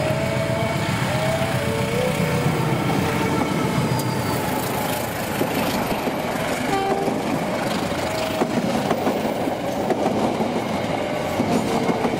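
A long passenger train rolls past on the rails in Indonesia, a continuous loud rumble with rhythmic clickety-clack from the wheels and faint squeals, filling the whole stretch without voices.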